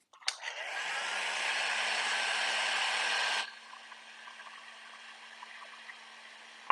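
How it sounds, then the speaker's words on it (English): Heat gun blowing hot air onto painted furniture, a steady close roaring whoosh that cuts off after about three seconds and leaves a quieter hum and faint room sound. "Now let's heat gun this baby up."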